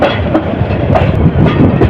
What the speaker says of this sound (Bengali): সাইস্তাগঞ্জ রেল স্টেশনের এক নম্বর প্ল্যাটফর্মে প্রবেশ করছে ট্রেনটি